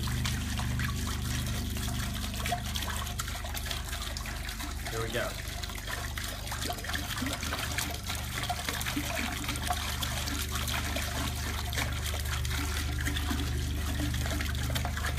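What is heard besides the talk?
mead being poured into a pot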